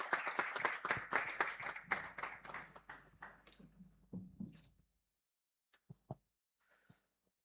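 Dense applause at an Association of Occupational Health Goa installation ceremony, loud and steady for about four seconds before thinning into a few scattered claps and then silence.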